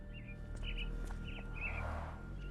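Caged mynah birds in the Sherlock Holmes: The Awakened video game give four short, bright chirps over a low ambient hum, moderately close and without speech.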